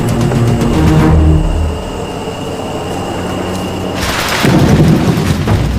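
Thunder rumbles in the Panama jungle during the rainy season, a deep continuous roll under steady heavy rain, loud and close, swelling again near the end.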